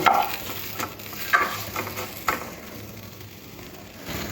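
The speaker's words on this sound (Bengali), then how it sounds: "রেখে আমটাকে একটু শুকনো খোলায় এরকম নাড়াচাড়া করে নেব" Raw mango pieces are stirred in a dry pan with no oil over medium-low heat, giving a soft sizzle and a few scraping strokes of the spatula at the start and middle.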